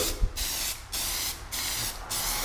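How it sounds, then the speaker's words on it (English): Bursts of aerosol paint spray hissing in short even pulses, four blasts with brief pauses between, close and steady, a test spray before painting car mirror caps. "test spray to get a good even flow out"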